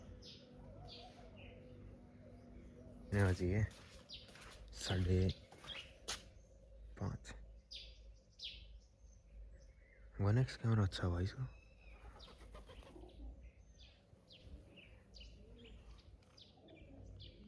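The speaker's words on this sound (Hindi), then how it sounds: "चिड़िया बैठी" Birds perched nearby at a house chirp and coo intermittently, fairly faint, while people talk loudly over them.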